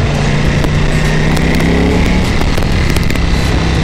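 A loud Ducati Panigale V4 S sport motorcycle engine idles and revs with a harsh, throbbing rumble, close by and continuous.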